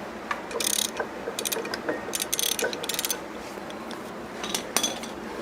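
Ratchet turning over the engine of a BMW Isetta by hand after decades sitting in the woods, a run of close metallic clicking bursts with pauses between pulls, no talking.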